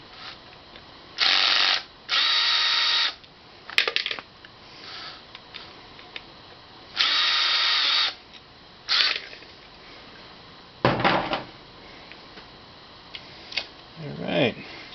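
Teardown of a Decagon device as the last two screws come out: bursts of screwdriver whirring and ratcheting in separate runs, close and fairly loud, with quieter handling sounds in between.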